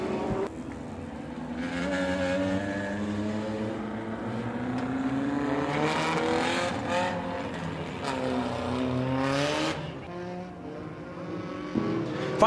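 Race cars on the final lap at Winston Speedway roar steadily and loudly, engine notes rising and falling as the pack thunders around the oval with no one talking.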